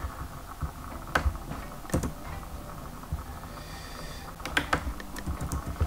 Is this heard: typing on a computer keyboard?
yes